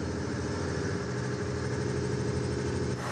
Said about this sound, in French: En guise d'autoradio, le bruit infernal du moteur